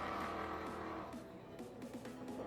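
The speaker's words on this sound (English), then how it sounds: "You'll hear him on the throttle." A bone stock 1996 two-valve Ford Mustang at a drag strip roars under steady throttle, its engine note loud and continuous with rising pitch sweeps as it accelerates.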